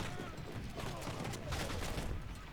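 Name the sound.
archers firing volleys in Rome Total War video game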